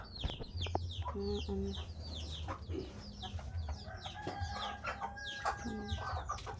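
Laying hens cluck steadily and repeatedly, overlapping one another, with other farmyard birds calling in the background.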